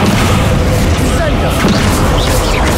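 A slamming spell impact in the video game Hogwarts Legacy, a dense, loud, sustained boom-like rumble with crackling bursts running through the whole moment, spoken voice overlapping.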